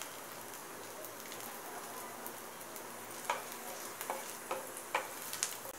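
Ginger and masala sizzle steadily in a pan over a medium flame while being sautéed for Malvani prawn masala, a constant frying hiss with a few sharper crackles and spatters toward the end.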